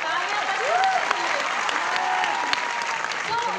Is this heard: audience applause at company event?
yes